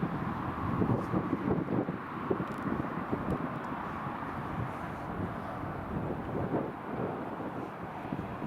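A Corendon Airlines Boeing 737 MAX 8 approaches to land on runway 07 at Newcastle Airport in a tailwind crosswind, heard as a faint, distant, steady roar mixed with gusty wind buffeting the microphone.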